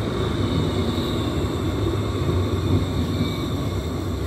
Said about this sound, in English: Bombardier LRT train car pulling into Stratham Station